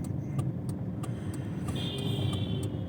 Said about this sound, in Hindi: तो हम गाड़ी खड़ी करते हैं।